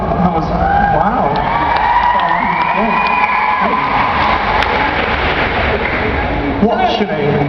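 A live audience at a convention panel cheers and whoops loudly, a dense crowd roar that runs throughout with voices rising above it.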